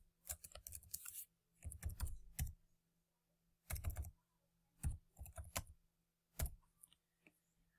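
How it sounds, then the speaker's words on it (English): Computer keyboard typing in quick bursts of clicking keystrokes, close and fairly crisp, separated by short pauses in a quiet room. "now I will type"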